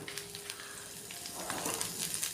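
Onions fry in oil in a kadhai for a cashew curry gravy, a soft crackling sizzle with scattered pops that grows slightly busier toward the end.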